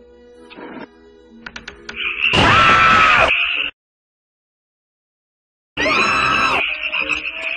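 Cartoon frogs let out loud, raspy croaks in two long, buzzing bursts separated by a silent gap, with some squeaky clicks before the first.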